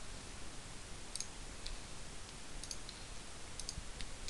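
Computer mouse clicks while selecting circles in CAD software, a handful of faint, sparse ticks spread irregularly over steady low background hiss.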